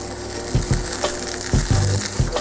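A feta cheese omelet sizzles steadily in a hot pan, with a few louder thumps and scrapes as it is folded over, all close and without speech.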